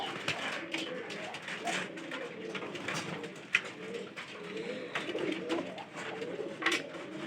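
Pigeons kept indoors during hot weather, with soft cooing and bird calls running steadily throughout alongside rustling and scattered wingbeat-like bursts, fairly close and at moderate volume.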